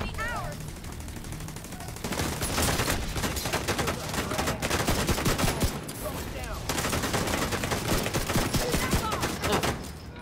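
Heavy sustained gunfire from a minigun and other weapons in The Division 2, dense rapid bursts with short pauses, loud and continuous throughout.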